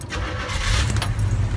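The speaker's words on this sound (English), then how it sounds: "I'm gonna start the car up." A 1967 Chevrolet Chevelle SS, already warmed up, starting on the first turn of the key: a steady low engine rumble with some broadband mechanical noise, close and continuous without speech.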